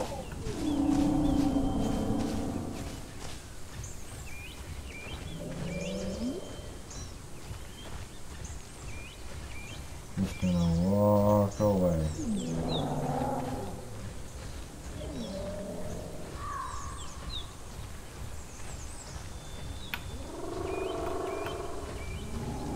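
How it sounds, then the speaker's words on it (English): A large creature in The Isle dinosaur game, nicknamed the killer turkey, gives a harsh roaring, gobbling call at mid-distance, with a loud burst near the middle among scattered quieter calls over a steady ambient background. "That was the sound of the killer turkey"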